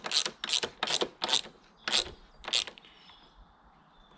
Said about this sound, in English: now that they're in by hand, we can tighten them down